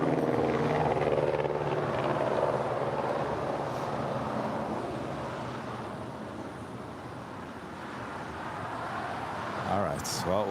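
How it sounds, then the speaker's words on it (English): A jet airliner, an A321neo, taxis at LAX for departure, its engines a steady distant roar and whine that fades a little midway, with people talking over it. "an A321neo making their way down for a Southside departure"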